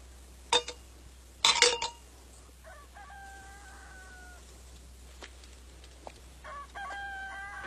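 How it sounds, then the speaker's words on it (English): A rooster crows twice, a drawn-out call at middle distance, after a couple of sharp clattering knocks, with faint ambient hiss between the sounds. "There's a brave bird."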